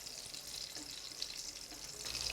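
Shallots and curry leaves fry in hot oil for a Kerala dish, giving a faint, steady sizzling hiss that runs evenly throughout with no talking.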